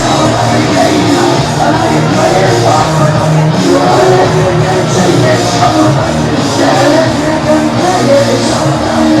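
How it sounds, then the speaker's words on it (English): A large crowd fills the stands at the Hawks Nest for a high school football game between Apex Friendship and Holly Springs, producing a loud, continuous roar of overlapping voices and distant shouts. "Very good crowd filling in here at the Hawks Nest."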